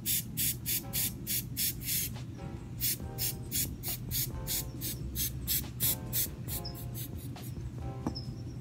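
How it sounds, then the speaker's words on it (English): Repeated short hissing bursts of an aerosol spray can, about a dozen quick sprays in an uneven rhythm, close up over a low background hum. "I shouldn't spray this over the tray"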